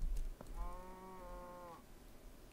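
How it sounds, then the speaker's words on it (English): A cow from the Minecraft video game gives a single drawn-out moo, clear and fairly close, after a few soft knocks and with no talking. "Cow."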